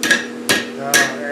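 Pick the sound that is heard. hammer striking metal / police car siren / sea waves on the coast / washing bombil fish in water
hammer striking metal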